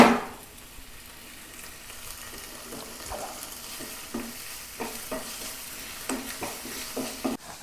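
Tomato goes into a pan of mushrooms with turmeric and salt for a mushroom roast, raising a soft steady sizzle, with scattered light stirring clicks and scrapes close by after an initial louder splash.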